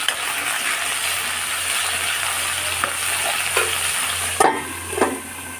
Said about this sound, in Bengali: এদিকে তো সবজিগুলো ভাজছি